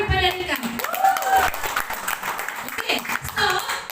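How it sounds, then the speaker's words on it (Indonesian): A small audience claps briefly at a beauty facial spa presentation in Malaysia, the short applause mixed with a person talking. "Beri tepukan pada Rika."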